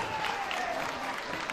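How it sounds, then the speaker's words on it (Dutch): Applause from an audience at a carnival junior princess farewell, a steady soft patter of many hands at a moderate distance, brief and continuous. "dan mag een applaus"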